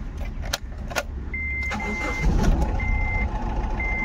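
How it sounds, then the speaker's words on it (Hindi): A Honda Amaze with a check-engine light and engine vibration fault is started up, the starter cranking into an idling engine, joined by short electronic chimes and beeps from the car at close range. "वापस एक बार गाड़ी को स्टार्ट करूँगा"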